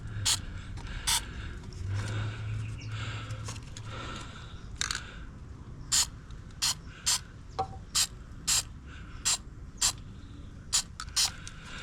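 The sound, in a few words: spray painting Tesla T Sportline wheels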